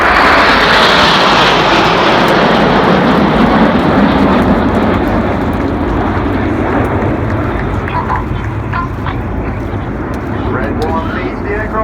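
RAF Red Arrows jets roar loudly and continuously through a flying display at RAF Cosford, with the engine noise slowly shifting in tone as the formation passes, while a commentator talks over it.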